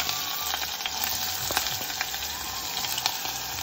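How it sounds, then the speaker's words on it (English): Chopped onions sizzle loudly among spluttering mustard seeds in hot oil for a Kerala kadala curry, with sharp pops and crackles scattered over a dense, continuous fry, close up and without talk. "As soon as the seeds start spluttering, I'm going to be adding in the onions"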